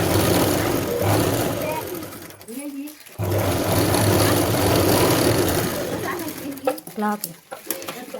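A sewing machine stitches a blouse in a steady, loud whirring run, stopping briefly partway, then running on before a voice speaks near the end.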